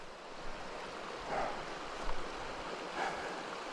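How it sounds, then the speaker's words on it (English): A late-August stream flows steadily in Star Valley along the Oregon Trail, a soft continuous wash of water heard faintly from a distance with light wind. "and pretty good flow of water."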